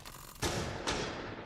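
Two sharp blasts about half a second apart in a Rainbow Six Siege match, from a flashbang grenade, each a sudden broadband bang with a short decaying tail, fairly faint under game ambience, no talking.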